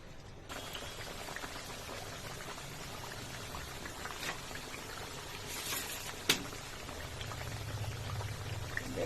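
Thin slices of potato papad fry slowly in hot oil, giving a steady, dense crackling fizz with occasional sharper pops, close and unbroken throughout.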